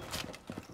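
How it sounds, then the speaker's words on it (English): A magazine is reloaded in a PC shooter video game: a short, quiet burst of a few crisp mechanical clicks and snaps, heard on its own. "Loading the magazine!"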